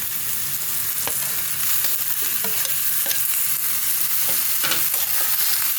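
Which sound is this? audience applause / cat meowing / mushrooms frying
mushrooms frying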